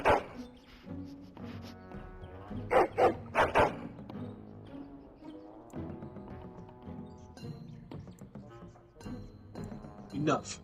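A dog in the video game Dragon Age: Origins barks and whimpers in short bursts, close and fairly loud, heard among a man's spoken lines and background game sounds.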